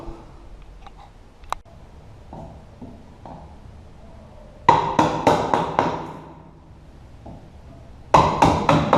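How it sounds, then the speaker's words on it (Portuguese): Latches removed from a drywall door frame with a screwdriver and the back of a hammer, scattered light taps first, then two bursts of rapid sharp metallic hammer blows, each a quick series of four or five hits. "E as travas você retira usando aí uma chave de fenda e o lado de trás do martelo."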